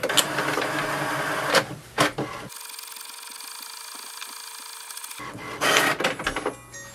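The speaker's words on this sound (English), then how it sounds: "Now it's printing, so just wait for the print to come." An HP Envy 6055 all-in-one printer prints a page with close mechanical whirring and clicking, briefly falls quiet, then resumes with louder feeding and rattling.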